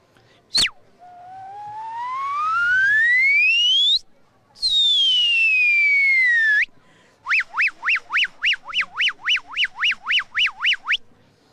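A man imitates a police car siren with his voice: a long rising wail, a falling sweep, then a rapid series of repeated yelping tones, loud and close with no other noise.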